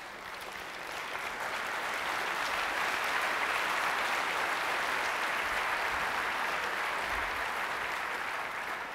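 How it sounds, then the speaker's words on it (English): Sustained audience applause in a lecture hall at MIT Tech Day, a dense, even patter of many hands clapping, heard from a distance and holding steady for the whole stretch without talk. "That applause, of course, is for the team of students and faculty who did that"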